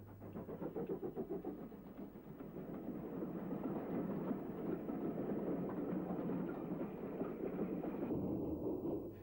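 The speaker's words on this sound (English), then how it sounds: "This is a Thompson 460B1 engine of LNER origin." A Thompson B1 steam locomotive of LNER origin chuffs rhythmically as it pulls away, the beats quickening and blending into a steady loud rumble of the moving train.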